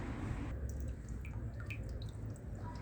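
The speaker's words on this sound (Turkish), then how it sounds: "Damla damla su iniyor" Water drips slowly into a drain clogged with debris, a few faint scattered plinks over a steady rushing background noise.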